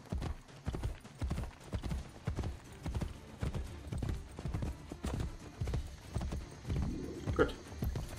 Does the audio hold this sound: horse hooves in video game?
yes